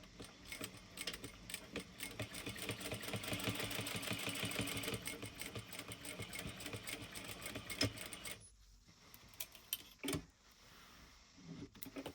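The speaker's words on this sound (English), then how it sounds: "we're going to top stitch the 3 of these slip pockets and then the sides" A sewing machine top-stitches the slip pockets of a dual wallet in a rapid, steady mechanical run for about eight seconds, then stops, leaving a few scattered clicks and handling noises.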